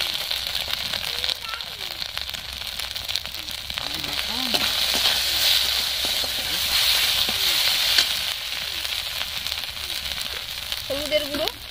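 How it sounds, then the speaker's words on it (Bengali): Ground ginger, chilli and cumin paste with chilli powder fries in a pan for a koi fish and kohlrabi curry, a loud continuous sizzle with stirring scrapes and occasional bubbling pops. "মশলাটা খুব সুন্দরভাবে কষানো হয়ে গেছে।"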